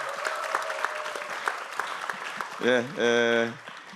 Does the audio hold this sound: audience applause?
yes